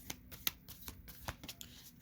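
A deck of alchemy oracle cards is shuffled by hand up close, giving a quick run of soft, papery riffles and sharp card snaps with no talk over them.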